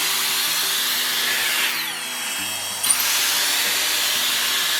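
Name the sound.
Dyson Airstrait hair dryer straightener drying wet hair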